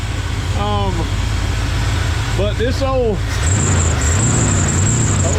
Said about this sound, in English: got old whistling, got a pulley down here that's hollering a little bit